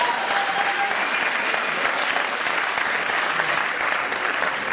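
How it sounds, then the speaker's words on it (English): Sustained audience applause at a Stanford Business School MBA address, dense steady clapping from a large crowd throughout, with no speech over it. "You give them a round of applause."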